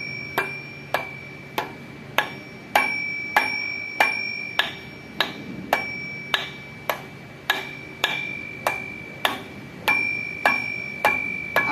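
Metal hammer strikes ring out on Isuzu 10PE1 diesel engine parts during a general overhaul, about twenty sharp, evenly paced blows with a bright metallic ping, close and loud, with no voices.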